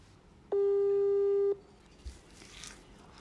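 A telephone busy signal sounds on a call attempt, one loud, steady tone lasting about a second, followed by quiet background noise.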